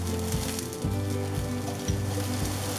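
Black bean garlic sauce sizzles and fries in a hot pan with seared cod, a steady close crackle with low rhythmic bumps roughly every half second, as if the pan is being stirred or shaken.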